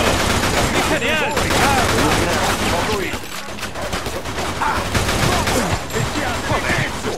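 Rapid bursts of automatic gunfire in the video game Mafia II crackle almost continuously, dense and loud, with brief shouting voices mixed in.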